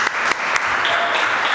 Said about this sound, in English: if you could give a round of applause for Jim Kollegger